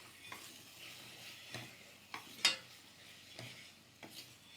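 Finely chopped tomatoes sauté in oil for a chicken curry, a faint soft sizzle broken by a few light spoon stirs and scrapes against the pan.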